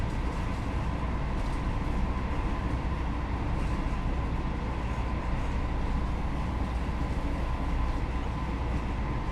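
An HST train in Train Sim on the Chester to Holyhead route gives a steady, dense rumble of engine and rolling wheels, continuous and even in loudness throughout, with no talking over it.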